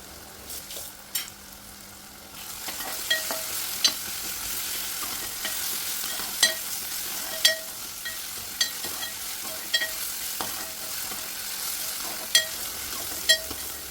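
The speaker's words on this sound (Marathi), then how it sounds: "यामध्ये आलं लसूण कोथिंबिरीचा ठेचा घालूया आणि दोन मिनटं परतून घेऊया" Onion sautéing with a crushed ginger, garlic and coriander paste in a pan, a continuous close sizzle broken by regular sharp spatula clicks and scrapes every second or so, without any voices.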